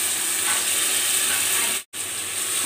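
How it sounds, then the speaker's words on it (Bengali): Rice and lentils tipped into softened onions frying in a pan, a steady close sizzle with a bright hiss that briefly drops out for a moment before resuming. "চাল আর ডাল দিয়ে দিলাম।"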